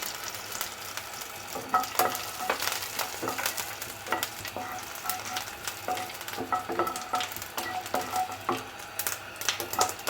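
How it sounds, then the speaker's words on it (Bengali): Panch phoron spice seeds fry in hot oil for a ridge gourd mash, giving a steady dense crackle with sharp pops scattered throughout, close and fairly loud with no voices. "এটা একটু ভাজা হলে হালকা একটু ভাজা হলে এখন আমি দিয়ে দিচ্ছি পাঁচ ফোড়ন"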